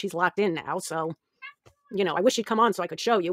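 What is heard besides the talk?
cat meowing in the background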